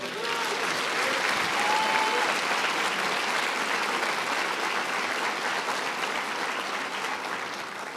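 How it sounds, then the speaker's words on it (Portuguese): Sustained applause from a church congregation during a sermon, broad and even clapping that continues throughout and eases off a little near the close. "Se você acredita, dá uma salva de palmas, Senhor"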